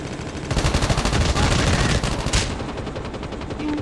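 Loud automatic gunfire in Call of Duty Mobile, a dense rattling burst of about two seconds that ends abruptly, followed by quieter background game sound.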